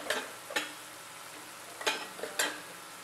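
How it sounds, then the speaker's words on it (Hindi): A spoon scrapes and stirs onions frying in a pan with turmeric and chili powder masala for dum aloo. A soft sizzle runs underneath and four distinct scraping strokes sound close by, with no voices. "अब इसको थोड़ी देर हिलाएंगे"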